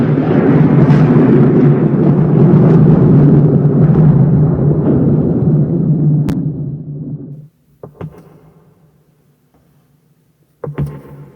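A loud, deep roll of thunder in an audio drama rumbles for several seconds, then fades away, followed by a few faint crackles.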